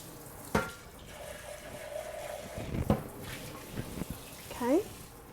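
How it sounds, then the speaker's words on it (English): Water rinses around the edges of a cup while a vegan chai latte is being made. It is a close, running splash with a few sharp knocks and clinks, ending in a brief gurgle. "And then I'm going to kind of rinse around the edges, being careful not to get any water"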